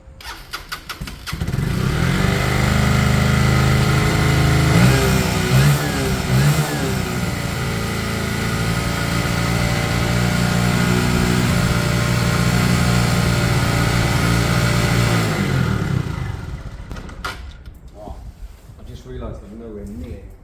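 Lexmoto Michigan motorcycle engine starting and then running at a loud, close, steady idle with some throttle variation for about fifteen seconds before shutting off, with a person speaking afterwards.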